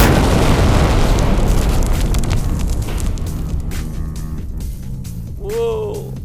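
A loud explosion roars at full force from the start and slowly rumbles and decays, with a faint rising whine near the end.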